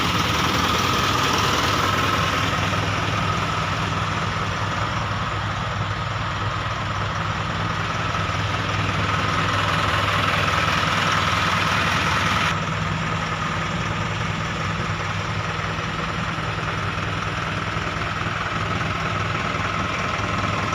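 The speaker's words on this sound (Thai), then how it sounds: "ตอนนี้ยังติดเครื่องอยู่ครับจะเสียงเงียบนะครับ" The diesel engine of a 1998 pickup truck idles steadily with a low, even rumble and no talking throughout.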